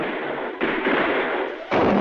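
Cartoon guards open fire in an animated show, a couple of loud, rough bursts of gunfire that cut in one after another with no talking.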